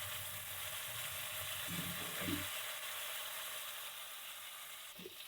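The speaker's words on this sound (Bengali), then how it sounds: "মাছগুলো একটু লালচে করে ভেজে নেব।" Rohu fish pieces frying in oil, turned to brown on both sides, giving a steady close-up sizzle and hiss with a brief soft stir in the middle.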